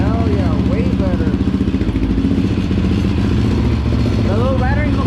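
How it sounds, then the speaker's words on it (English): Yamaha Raptor 700R ATV idling up close with a loud, pulsing engine rumble and a light rattle from a loose flag mount, with voices talking over it. "The little rattling noise is from the flag thing."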